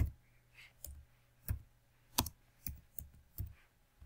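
Sparse, separate key presses on a computer keyboard while Python code is written, about one sharp click every half second in a quiet room, no talking.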